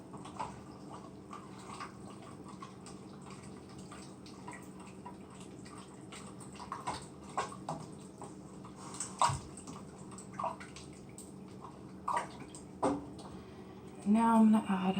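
Water poured into a pan of homemade spaghetti sauce, making a steady, soft trickling and splashing with scattered drips that build toward the end.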